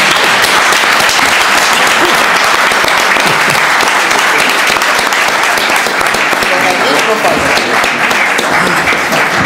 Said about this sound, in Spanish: un aplauso para la bandera